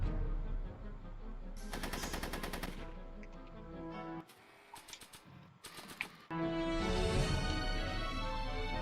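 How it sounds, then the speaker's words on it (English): Rapid bursts of video game gunfire from the Back to the Future game, loud and clustered into two or three dense volleys with quieter gaps between, set against a constant game soundtrack. "Are you shooting at me?"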